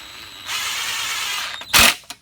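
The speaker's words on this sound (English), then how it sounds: "now we're gonna tighten them up" Ratchet snugging down bolts by hand after fresh spark plugs go into an engine, a steady broadband mechanical whir for over a second, then a short loud burst and a brief final click, close up with no talking.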